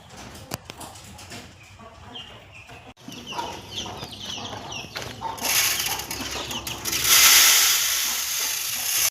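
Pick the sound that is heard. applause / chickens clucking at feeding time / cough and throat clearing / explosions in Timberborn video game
chickens clucking at feeding time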